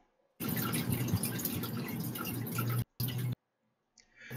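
Water trickles and drips continuously, like a fish tank or a running tap in a bathroom nearby, a steady splashy wash that cuts out abruptly twice near the end, with no voices.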